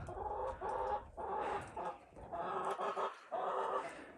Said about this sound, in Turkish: Şurada horozumuz. Küçük horoz.